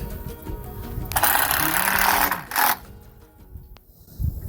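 A power driver runs the last screws into purlins on a large farm barn build, with two loud whirring bursts of about a second each, close by. There are muffled low sounds and faint voices around them.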